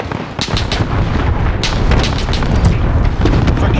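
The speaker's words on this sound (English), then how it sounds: "Allied cruise missile away." Heavy blasts and booming gunfire from a cruise missile strike in Call of Duty Modern Warfare multiplayer, loud and dense, with repeated sharp bursts over a continuous rumble.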